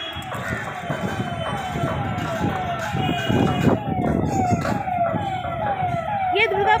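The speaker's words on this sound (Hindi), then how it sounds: "ये दुर्गा पूजा के टाइम एम्बुलेंस की आवाज़ सुनने में थोड़ा भी अच्छा नहीं लगता है" Wailing ambulance siren on a crowded North Kolkata street during Durga Puja, a steady rising and falling tone heard from nearby over dense crowd and traffic noise, with voices talking throughout.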